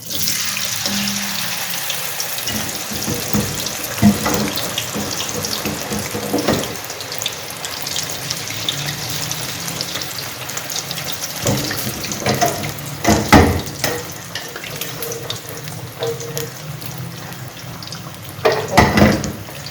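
Frozen fries sizzle in hot oil, a continuous hissing, bubbling crackle with occasional louder bursts as pieces go in, close and steady.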